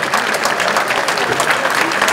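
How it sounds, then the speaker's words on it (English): An audience at the Edison 64 memorial applauds veterans with a short, loud, dense burst of clapping that holds steady throughout and has no speech over it. "So please give them a round of applause."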